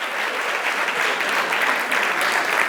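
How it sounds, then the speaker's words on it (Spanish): Steady audience applause at a Spanish-language teachers' conference, dense and continuous clapping filling the room for nearly three seconds with no voices over it. "un aplauso para los otros"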